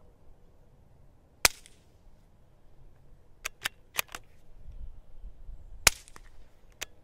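A firearm fitted with a short, small GSL Tech pill bottle suppressor fires outdoors: two sharp, muffled cracks spaced several seconds apart, with a cluster of smaller snapping impacts between them over a quiet background.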